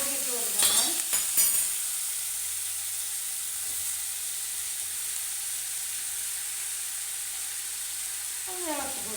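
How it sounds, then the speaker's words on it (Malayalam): Carrot, tomato, onion, green chilli and grated coconut thoran being stirred in a pan, a few quick scraping stirs at the start, then a soft steady frying hiss with a low hum and one more brief stir near the end. "ഒന്ന് ഇളക്കി കൊടുക്കാം."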